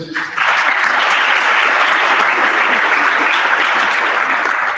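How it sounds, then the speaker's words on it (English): Loud, dense applause from a congress audience for candidates at an international pharmaceutical students' world congress session, rising quickly and holding steady throughout. "I will ask for a round of applause for the candidates."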